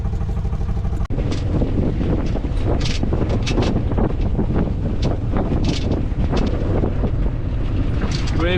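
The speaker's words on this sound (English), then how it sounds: "it's a little bit windy in this river because of the Venturi effect" Heavy wind roars and buffets across a sailboat on a river near Lisbon, a loud, constant rush with gusts and scattered knocks and rattles close by.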